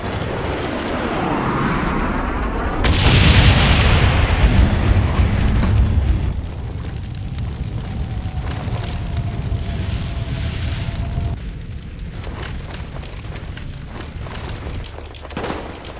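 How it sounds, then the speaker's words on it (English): Napalm strike explosions in a video game: a loud, rumbling blast erupts after a few seconds and rolls on as a long, roaring burn, fading into steadier crackling fire and distant booms. "Napalm strike on the way."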